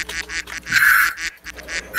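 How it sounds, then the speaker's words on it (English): A cartoonish duck quack sound effect from a Discord soundpad gives a few loud, nasal quacks in quick succession, close and alone. "Wait, look, I can make the funny duck sound."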